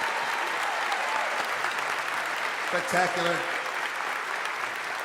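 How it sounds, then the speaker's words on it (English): Audience applause for a singer-songwriter at a Juno songwriters' circle, steady clapping that keeps going while someone briefly speaks over it partway through. "Give him another round of applause"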